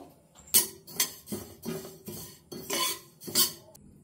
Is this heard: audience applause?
no